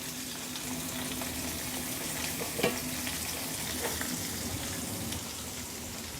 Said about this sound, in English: One last flip. That way all sides are seared.